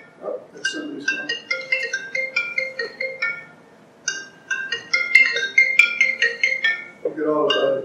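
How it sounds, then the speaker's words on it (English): Mobile phone ringing in an audience during a history talk, a melodic ringtone of rapid repeated tonal notes playing for several seconds with a voice speaking over part of it. "oh, that's somebody's phone."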